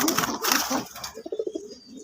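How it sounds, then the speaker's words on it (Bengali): A pair of red-and-white Rajgolla pigeons coo in a short run of soft, throaty pulses up close, following a louder burst of rustling and movement at the start. "এক পেয়ার লাল সাদা রাজগোল্লা কবুতর দিয়ে শুরু করতেছি"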